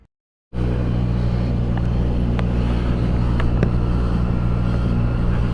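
A motorcycle rides to work in Germany on a fine day, its engine a steady, close drone that starts abruptly after a brief silence and holds level throughout, with a few faint clicks over the hum.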